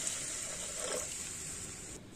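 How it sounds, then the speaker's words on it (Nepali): Water pours into a cooking pan for jhol momo soup as a steady, close, bright stream that runs evenly and then cuts off just before the end. "मलाई आवश्यकता पर्ने पानी राखेँ।"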